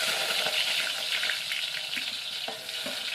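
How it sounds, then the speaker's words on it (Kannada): Cumin and mustard seeds crackle and sizzle steadily in hot oil in a village kitchen, a dense frying hiss scattered with small popping bursts, close and fairly loud with no talking. "ನೋಡ್ರಿ ಜೀರಿಗೆ ಸಾಸಿವೆ ಅಂತ ಚಟ್ಪಟ್ ಅನ್ನತ್ತಾವ್ರಿ"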